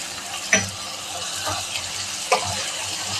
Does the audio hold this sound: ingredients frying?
yes